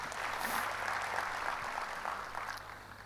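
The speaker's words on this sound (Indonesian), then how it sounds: "Kasih tepuk tangan bagi Tuhan Yesus." Applause from a church congregation during an Indonesian Sunday sermon, a steady broad wash of many hands clapping at moderate volume, sustained throughout and tapering slightly at the end.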